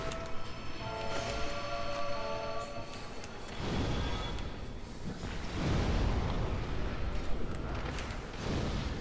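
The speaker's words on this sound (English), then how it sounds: "So we want an AoE explosion, our fireball, in order to finish them off real quick in one big attack." A fireball spell explodes in Dark Souls, an area attack landing as a deep, rumbling blast with a broad roar that swells mid-clip and lingers under game music and ambient noise.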